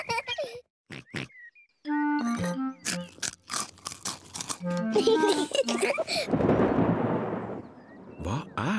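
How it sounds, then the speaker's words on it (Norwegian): Speech and brief tonal sounds come first in the cartoon Peppa Pig, then a deep rumble of thunder rolls in, loud and broad, before fading. "Det er torden, Peppa."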